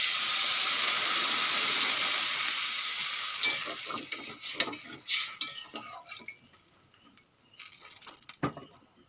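Water poured onto fried fish in a hot pan for a fish curry, a loud hissing burst that fades over several seconds into softer bubbling with scattered clinks and scrapes of utensils.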